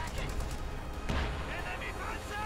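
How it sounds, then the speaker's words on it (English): Artillery barrage in the Company of Heroes 2 strategy game: booming impacts and crackling blasts rumble densely for a couple of seconds while a commentator talks over them. "Another barrage."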